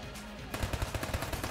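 The king gun in Enter the Gungeon fires a rapid, steady stream of shots, loud and rhythmic, starting abruptly after a quiet moment.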